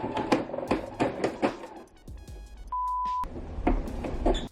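Sewing machine stitching down the side of a thrifted skirt, with bursts of rapid needle clatter and a sharp knock as it runs over a small metal grommet, followed by a steady electronic beep and then more stitching.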